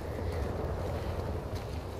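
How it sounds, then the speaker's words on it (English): Wind blowing across a high rooftop in The Last of Us Part II, a soft, steady low rushing whoosh with gentle swells, faint and continuous with no voices. "It's windy up here."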